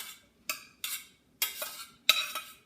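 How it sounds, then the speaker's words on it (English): Close, quiet scraping strokes as a spoon stirs a stuffing mix of carrot, celery, onion and seasonings in a bowl, six short swishes in an uneven rhythm with silence between them. "We're gonna mix this up in the bowl"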